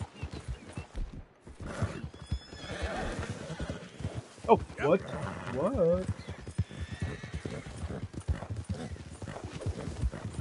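A horse neighs loudly mid-clip amid steady clip-clopping hooves, with a person speaking briefly over it.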